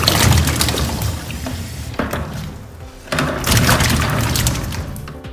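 Green tomatoes are washed in a water-filled basin, giving close sloshing and splashing with a few hollow knocks as the fruit is moved around, swelling and easing twice over several seconds.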